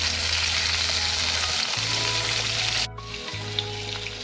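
Pointed gourd (potol) fries in a pan with a loud, close, continuous sizzle, briefly dipping midway before the hiss resumes, with no talking.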